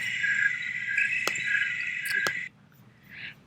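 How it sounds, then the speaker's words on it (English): Steady, close chorus of crickets trilling through a quiet countryside night in late September, a few faint sharp clicks, then the chirping stops and a softer call follows. "these are some of the sounds you may hear at night in the country"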